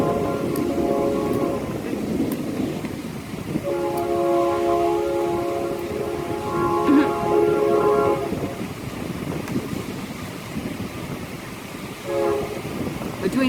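A train rolls past during a storm with wind and pouring rain, its long horn blasts sounding repeatedly over a dense wash of rumble and rain noise, with a voice faintly underneath.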